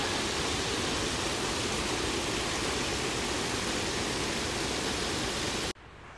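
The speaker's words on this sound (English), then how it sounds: "The brook isn't deep, but it's certainly flowing fast." A shallow, fast-flowing brook in Ashworth Valley rushes in a loud, steady broadband wash, close by and unbroken, cutting off abruptly near the end.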